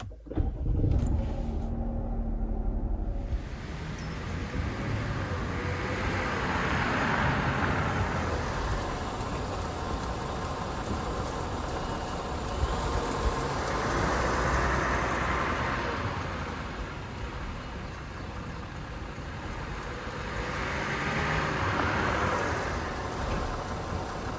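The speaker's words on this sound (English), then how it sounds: "from here I'm going to start the engine and go for a test drive" A 2018 Chrysler Pacifica starts up and drives on a test run, giving a steady road rumble with engine and tire noise that swells and fades in slow waves, no talking.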